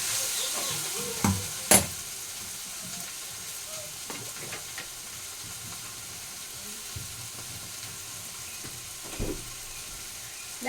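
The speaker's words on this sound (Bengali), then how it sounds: "লাউটা আমার প্রায় ভাজা ভাজা করা হয়ে গেছে" Bottle gourd frying in a pan with a constant soft sizzle, while a spatula scrapes and stirs now and then in a few sharper knocks. A voice is heard faintly in the background.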